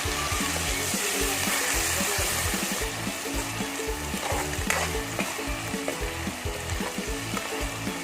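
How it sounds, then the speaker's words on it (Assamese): A spice paste for chicken gravy fries in a pan while being stirred, giving a dense continuous sizzle with rhythmic scraping of the spoon against the pan; close and fairly steady, with no voices. "এতিয়া ইয়াক ধুনীয়াকৈ লৰাই দিম।"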